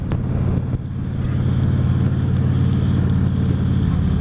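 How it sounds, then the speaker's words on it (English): A truck rolls past on the road during a cross-country trip, a heavy low engine rumble and tire drone heard from close by inside a moving vehicle, steady and loud with faint clicks. "I was almost afraid that truck was going to pull over."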